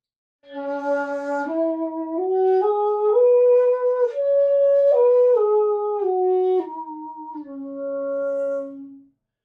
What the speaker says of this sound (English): On the shakuhachi, it sounds like this.